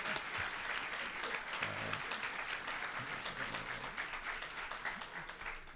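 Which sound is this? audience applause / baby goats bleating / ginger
audience applause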